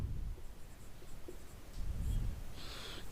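Pen or chalk writing during a Hindi chemistry lesson, a faint scratchy stroke run with a brief brighter scrape near the end, no voice over it.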